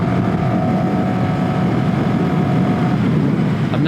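Yamaha Maxim cruiser motorcycle engine droning steadily at high revs while riding, a loud continuous hum with wind rush and no break throughout.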